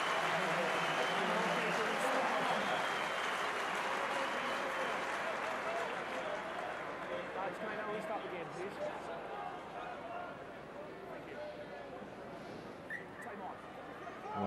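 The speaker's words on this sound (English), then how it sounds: "And Ian Humphreys is going off to rapturous applause." Crowd applause and cheering at a professional rugby match between Ulster and Cardiff Blues as a substituted player leaves the pitch, a broad sustained roar of clapping that slowly fades, with a commentator's voice over it.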